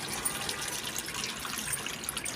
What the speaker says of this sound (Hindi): अरे पानी भर गया पूरा